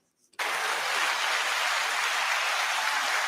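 Canned crowd applause fired from a soundboard button, bursting in abruptly after a brief pause and holding as a dense, steady clapping roar close and loud to the end.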